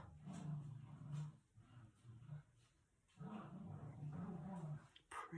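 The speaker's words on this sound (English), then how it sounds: "the dogs are really playing now" Dogs play together with low, rumbling growls in bursts, faint and a little distant, over soft room noise.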